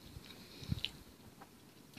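Faint, close chewing of a crispy chicken sandwich topped with jalapeno poppers, with a few soft crunchy bites and mouth sounds against quiet room noise.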